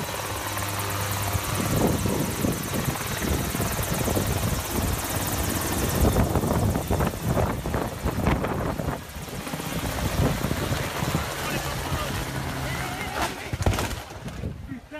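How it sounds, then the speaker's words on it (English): A helicopter's steady rotor thump and engine drone fill the scene, loud and sustained, with some wind noise and a voice speaking over it. "A helicopter crashed in the water after flying over it for quite a while."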